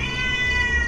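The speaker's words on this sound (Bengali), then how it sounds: "বিড়ালের আওয়াজটা এত তীক্ষ্ণ ভেসে আসছে আমি কিছুতেই ঘুমিয়ে থাকতে পারছি না।" A cat gives one shrill, sustained meow from a neighbouring room at night, heard close and clear with no talk.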